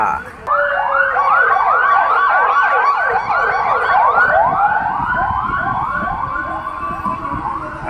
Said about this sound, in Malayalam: ആംബുലൻസ് ഒരു ജീവനും കൊണ്ട് പായുന്നുണ്ട്